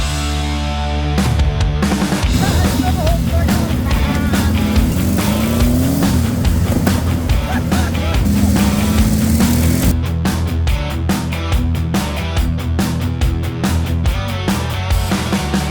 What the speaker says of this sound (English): check out this super cool Volkswagen dune buggy I acquired through a marketplace deal